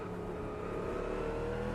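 Race car engine in Automobilista 2, a GT4 or GT3 car, holding a steady loud drone with a faint whir, continuous and alone over a short stretch.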